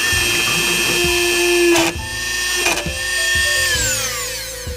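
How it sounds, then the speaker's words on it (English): A power tool whines steadily while punching a hole through the carpet of a Nissan 240SX while installing a racing harness bar. The tone shifts pitch and is interrupted by two brief clunks, with the tool loud and close throughout. "I am going to basically just puncture a hole straight through the carpet in the very center"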